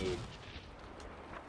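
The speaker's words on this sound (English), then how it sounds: "We need to hit him with this grenade." A grenade blast from the Star Wars Battlefront video game gives a short burst of dense, rumbling noise. It decays into a brief muffled wash.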